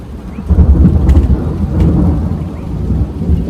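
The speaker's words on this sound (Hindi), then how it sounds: "देखा कैसे बिजली है यहाँ" A rainstorm with lightning outdoors: a loud, steady wash of rain hisses close by while deep thunder rumbles continuously underneath.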